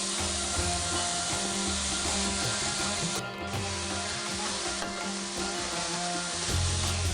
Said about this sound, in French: Si ça commence à chanter, on peut mettre nos carottes.